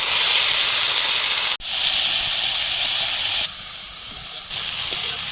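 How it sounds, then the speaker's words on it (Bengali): Bitter gourd fries in mustard oil with a loud, steady hiss, briefly cut off once, then continuing slightly quieter, with no voices. "করলাটা ভাজার জন্য সামান্য পরিমাণ মতন আমি সরষের তেল দিয়ে দেবো। এবার আমি করলাটা ভেজে নেব।"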